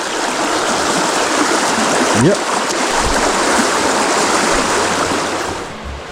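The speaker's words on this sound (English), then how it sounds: "There's an old brook." A mountain brook rushes steadily and close by in a broadband wash, with a brief spoken word partway through.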